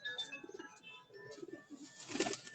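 A pigeon coos softly on a rooftop loft, several low rolling coo phrases in a row, close but quiet, with faint chirps and ambient hum around it.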